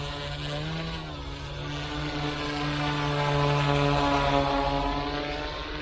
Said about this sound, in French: c'est pour vous montrer un petit peu comment ce drone vole